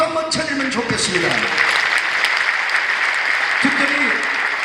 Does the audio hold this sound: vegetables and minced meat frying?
no